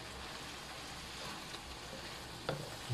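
Buttered shrimp with chopped corn sizzles and crackles in a frying pan while being stirred, a steady close fry with a couple of light clinks near the end.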